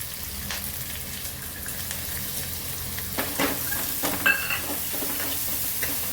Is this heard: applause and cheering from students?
no